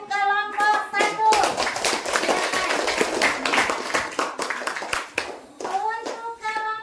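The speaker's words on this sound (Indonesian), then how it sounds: "Kasih tepuk tangan untuk kelompok 1." A classroom of children claps for a group that has just finished presenting, a burst of dense hand claps running for several seconds between brief voices at the start and end.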